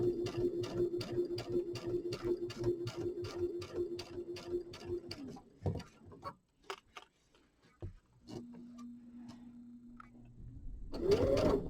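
A sewing machine stitching binding onto a quilt, with a steady fast run of rhythmic needle ticks that stops, leaves a few scattered clicks, then resumes briefly with a lower hum, close and clear without talk.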